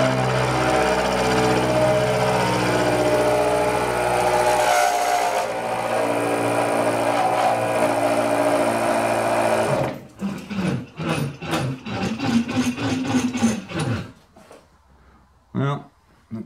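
A homemade powered lathe slotter cutting metal, a steady mechanical whine and drone that cuts out abruptly, followed by irregular clunks and rattles as the machine overloads and stops.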